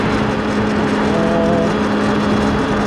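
A motorcycle engine runs loud and steady, its low hum swelling briefly into a short rev before settling back.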